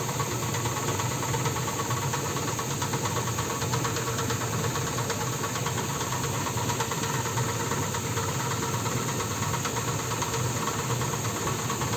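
A 3 kW, 380 V electric motor driving a 125 mm flexible PVC grain auger runs continuously at a steady pitch, a constant mechanical whir and hum with a faint rattle, unchanging from start to finish.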